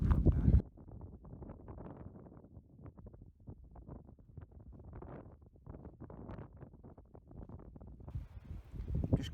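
Gusty wind buffets the microphone on open moorland at Rannoch Moor in the Scottish Highlands, a constant low rumbling roar with a heavy blast at the start and another swell near the end.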